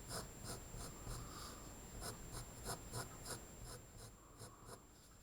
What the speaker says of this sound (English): I draw very light with the pencil first.